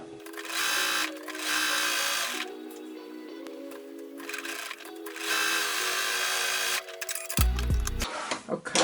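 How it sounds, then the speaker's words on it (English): A sewing machine stitches fabric in sustained bursts of steady mechanical whirring, stopping briefly between runs, with a short low thump near the end; close and clear with no talk. "Then just lift your foot up, readjust the fabric, and then you can carry on stitching."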